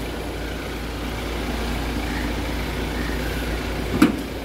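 A Mahindra XUV300 car engine idles with a steady low hum, even throughout, smooth and continuous, with a brief clunk near the end.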